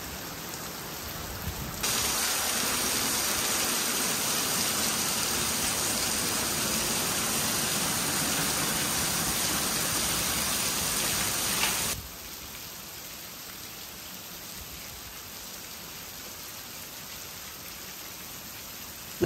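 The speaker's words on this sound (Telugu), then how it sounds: "అంతే పెద్ద వర్షం అండి అసలు" Dense, roaring downpour of heavy rain, noticeably louder and fuller in the middle stretch before easing back to a steadier patter.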